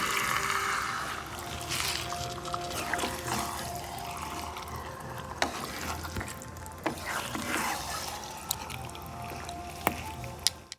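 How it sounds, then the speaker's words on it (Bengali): Water rinsed from the marinade bowl poured into a pan of frying marinated chicken, a rushing splash and bubbling sizzle that slowly fades, with small clicks and knocks from the pan close by. "এবার আমি ম্যারিনেট করা পাত্রটা থেকে ধুয়ে একটু জল দিয়ে দেবো।"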